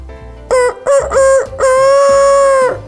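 A chicken calls loudly and close in several drawn-out, tonal clucks, with three short bursts followed by one longer sustained call and no other sound.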